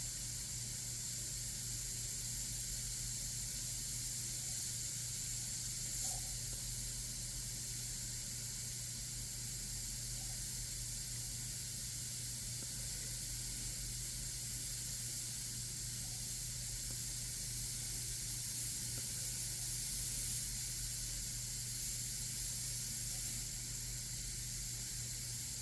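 An airbrush sprays paint onto a demon skull with a continuous, even hiss of air that runs unbroken and close for the whole stretch, barely changing in level.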